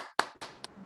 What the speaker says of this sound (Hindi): आइए हम उनको जोरदार तालियों के द्वारा उनको